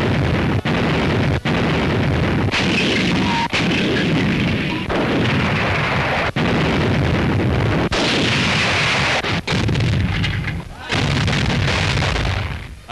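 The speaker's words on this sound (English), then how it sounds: "a bombardment by the guns of the Royal Navy is not a very pleasant entertainment if you happen to be the target" Heavy naval gunfire from Royal Navy warships bombarding Axis positions on the Libyan coast, repeated booming blasts at irregular intervals over a dense rumbling bed, loud and close throughout.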